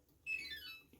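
A kitchen stove gives a single faint electronic beep as it is switched off, holding briefly before it fades, in an otherwise quiet room.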